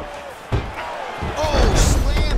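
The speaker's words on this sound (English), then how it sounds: "slams him down with authority, DC." Heavy slam of a fighter driven down onto the mat in EA Sports UFC 4, a sharp thud followed by rising crowd roar under a commentator's voice.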